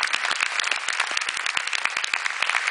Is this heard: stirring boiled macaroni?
no